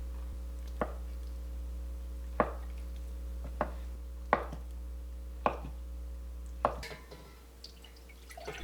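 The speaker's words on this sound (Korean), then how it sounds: "두부 반모를 썰어주세요." A knife cuts through half a block of tofu on a cutting board for a Korean doenjang stew, six sharp separate chops at an uneven pace over a low steady hum.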